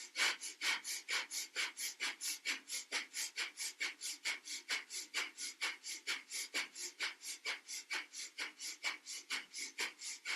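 Rapid rhythmic breathing in a kundalini yoga practice, forceful nasal exhales pulsing steadily at about three per second, close and dry, continuing evenly throughout with no talk.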